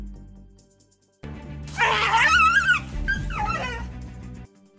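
A dog barks and yips at a large tegu lizard, sharp excited calls and whines packed into a few seconds after a quiet start, close and loud.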